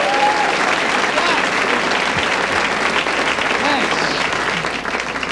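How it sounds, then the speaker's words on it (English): An audience applauds for a musical director at a comedy club show, dense, loud clapping sustained throughout, with a voice speaking over it. "Give him a big hand, folks."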